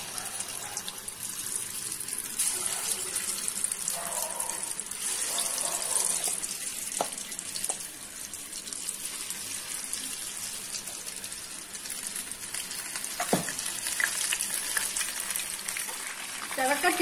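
Mushroom 65 pieces dropped into hot oil and deep-frying, a steady broadband sizzle and crackle throughout with a few brief louder pops.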